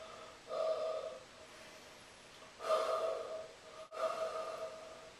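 Breaths blown into a cup of ice come as three separate soft, airy gusts, each about a second long and close to the mic, with quiet pauses between them.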